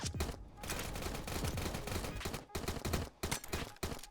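Rapid gunfire bursts in Warfare 1942, a World War II mobile game, crackling in dense volleys with short gaps between them and little talk.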